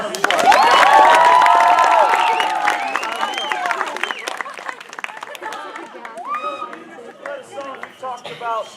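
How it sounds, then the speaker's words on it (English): A camp audience around a campfire claps and cheers, with excited children's shouts and whoops over the applause. The noise is loudest at the start, then tapers into scattered claps and chatter. "let's give Mr. Glenn another round of applause."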